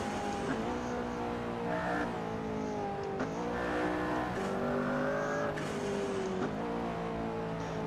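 A McLaren P1 lapping Silverstone in the Assetto Corsa racing game revs hard and continuously, its engine note climbing and dropping sharply through repeated gear shifts, loud and close with no talking.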